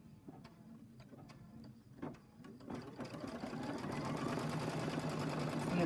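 A Brother embroidery machine stitches an appliqué outline, starting with a few sparse mechanical ticks and then settling into a loud, steady, fast rhythmic whirring chatter of needle strokes close by.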